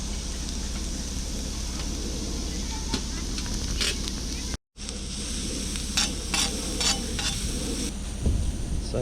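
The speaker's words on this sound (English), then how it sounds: "Listen to it sizzle." Eggs and sausage sizzle in a pan at a campsite, a steady close frying hiss with occasional stirring scrapes and clinks throughout.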